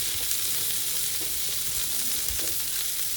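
Onions fry with spiced chicken in a pan, giving a steady, soft sizzle and crackle that holds evenly throughout, with no voices.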